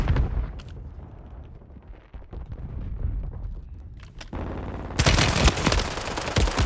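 Gunfire from the Call of Duty Warzone video game crackles in dense bursts, a muffled spread of shots followed by a loud, sustained fusillade near the end, with almost no talk.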